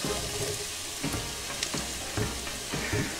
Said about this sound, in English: I want to saute these guys until they start getting a little soft.